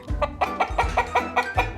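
A hen clucks repeatedly in a steady, rhythmic series of short, close calls, with no voices.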